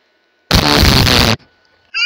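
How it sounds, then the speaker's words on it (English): A rocket bot blows up in one loud, abrupt blast that roars for nearly a second and cuts off sharply, leaving a quiet gap before another sound begins. "This is exploding."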